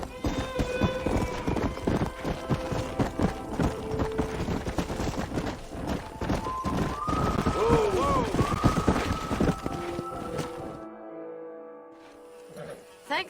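Horse hooves clip-clop through a Red Dead Redemption game scene on a ranch with fine horses and a stallion, the steady hoofbeats mixed with voices and other game sounds before fading near the end.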